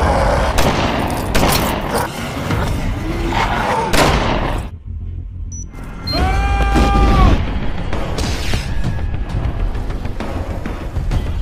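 A bomb blast in an action film sequence, a loud dense burst of rumbling explosions and debris, a short lull, then a renewed booming roar that trails off into continuing crackling and rumble.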